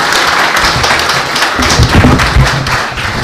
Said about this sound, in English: give a big round of applause for Hardeep Singh Kohli.